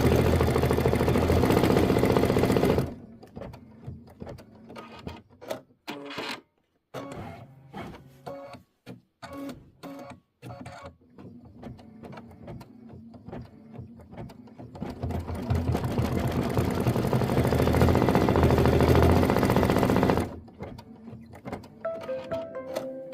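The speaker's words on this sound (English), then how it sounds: "we're going to stitch the bowl satin outline" An embroidery machine stitches a satin outline in white thread on a Kimberbell blueberries quilt block, a loud, fast, buzzing rattle at the start and again later, with quieter intermittent clicking in between.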